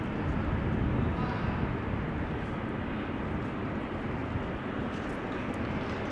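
A Helvetic Embraer 190 jet taxis at Amsterdam Schiphol with a steady, moderately distant engine roar throughout, and a voice talks intermittently over it.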